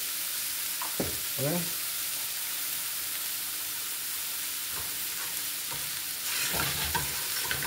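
Baby shrimp sautéing in olive oil in a pan give a steady close sizzle, with a few louder stirring scrapes and bursts of frying noise near the start and end.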